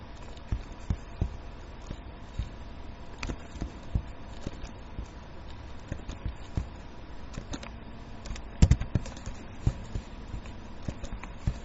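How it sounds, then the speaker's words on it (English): Keys on a computer keyboard tapped while typing a link into a chat window: light, irregular clicks and taps, fairly quiet and close, with no talking. "I am typing a link on the chat window"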